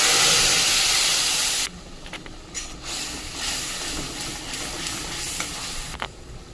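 Coriander leaf paste hits hot oil already tempered with asafoetida, cumin seeds and green chillies, bursting into a loud hiss that then drops to a steady, softer sizzle with occasional crackles, close by.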